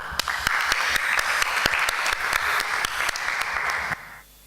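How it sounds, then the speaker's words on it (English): Sustained applause from a conference audience at a UNESCO open forum, dense clapping with a few sharp louder claps, ending abruptly after about four seconds. "Can we give them a round of applause?"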